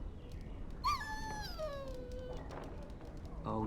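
In the video game Dragon Age: Origins, a dog lets out a single drawn-out whimpering whine that slides downward in pitch, set against low background ambience, with a short noise burst at the end.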